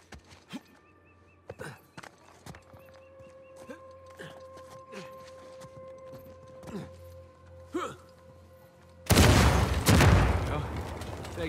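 A door is blasted open by an explosion in Uncharted 4, arriving near the end as a sudden loud, broad boom with a roaring tail, after quieter stretches of hooves, clatter and scattered thumps.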